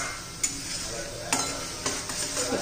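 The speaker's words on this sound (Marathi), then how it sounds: "मसाला घातल्यावर पण 1-2 मिनिटं चांगलं परतून घ्यायचं आहे, पुन्हा तेल सुटेपर्यंत" Masala with turmeric and coriander powder sautéing in oil for a pea and potato curry, a low steady sizzle broken by a few sharp scrapes of a spoon stirring the pan.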